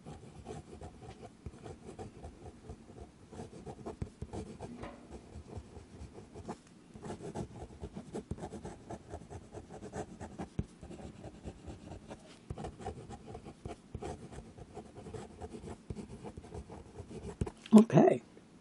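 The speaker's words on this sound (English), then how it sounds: "Fast writing." A Waterman CT fountain pen nib scratches quickly across paper in rapid, soft strokes close up. A brief louder rustle comes near the end.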